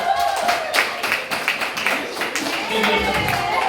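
Participants in an office training session give a short round of applause, scattered hand claps at close range mixed with people talking.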